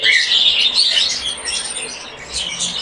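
Caged cockatiels, including a lutino pair, chirp in an aviary, a run of bright, close, overlapping chirps and calls with no speech.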